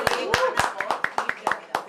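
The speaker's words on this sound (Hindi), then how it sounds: "इनके लिए ज़ोरदार ताली हो जाए प्लीज़" Loose, uneven hand claps rise from an audience at a movie trailer launch, a few close sharp claps over a faint voice murmuring underneath.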